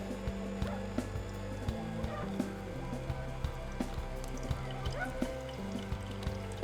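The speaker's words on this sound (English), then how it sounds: "So let's start by juicing our rhubarb." An electric juicer running on rhubarb stalks, a steady motor whir with repeated soft knocks and watery trickling as juice flows, close and moderately quiet.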